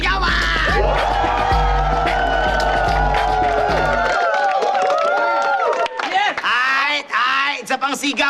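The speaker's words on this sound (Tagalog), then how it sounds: "Gusto ko marinig ang sigawan!" A crowd at a basketball event shouts and cheers loudly, with whoops and yells layered over a low roar, dropping to scattered excited voices partway through.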